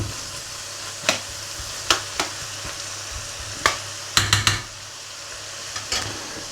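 Vegetables for paella fry gently in a pan, a soft steady sizzle broken by several sharp scraping stirs, with a quick cluster of clatters near the middle.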